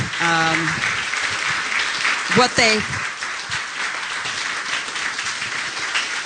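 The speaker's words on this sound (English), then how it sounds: "I would like us all to give all of our speakers a big round of applause." Audience at a gathering of Hurricane Harvey storm survivors applauding the speakers; steady, moderately loud clapping throughout, with a voice briefly heard near the start and again in the middle.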